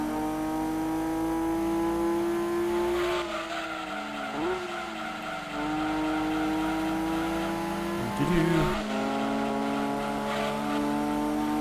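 Race car engines in Gran Turismo 2 whine and rev steadily while tyres squeal as the cars drift through a corner, with pitch shifts and a brief skid near the end.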